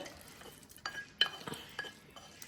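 Sautéed onion and coriander stirred into rava dosa batter in a bowl, soft wet scraping and a few sharp clinks of the spoon against the rim, close and quiet with no talking.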